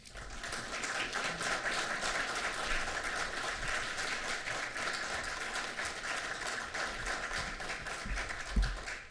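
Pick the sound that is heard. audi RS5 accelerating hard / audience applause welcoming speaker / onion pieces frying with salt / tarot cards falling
audience applause welcoming speaker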